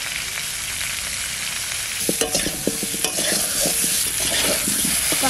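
Aar river fish sautéing with salt and turmeric in a hot pan, a steady bright sizzle throughout with a spatula scraping and stirring in bursts of clacks during the second half.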